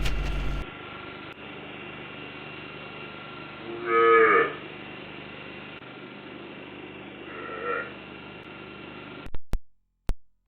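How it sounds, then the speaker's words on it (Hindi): A calf moos twice, calling its mother, a short call and a softer one a few seconds later, over a steady low hum in a quiet space. "ये आवाज़ देकर अपनी माँ को बुलाने लग रही है।"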